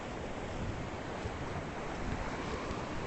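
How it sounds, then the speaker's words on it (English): Atlantic Ocean breakers roll in at the Ponce Inlet Jetty beach in Lighthouse Point Park, a steady broad wash of surf mixed with wind buffeting the microphone, no voices. "let you look at the breakers, the waves."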